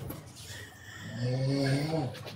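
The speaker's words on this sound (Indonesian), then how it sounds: "Ini siapa yang ngorok, weh?" Someone snores: a low, rumbling, droning intake with rough throaty texture, moderately loud and close, coming through a live stream with faint background noise.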